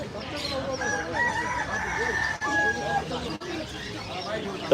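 Chickens cluck and crow amid a busy pet shop bird market clamor, with people talking throughout and a couple of brief thumps.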